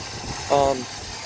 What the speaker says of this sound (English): V8 engine.